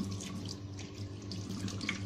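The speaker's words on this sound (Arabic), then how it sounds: "بتجيبي كده الممبار تقلبيه وبتقومي مدخله فيه الميه كده" Tap water runs into a beef intestine casing to turn it inside out, a steady close faucet stream with gurgling splashes over a sink, with no voices.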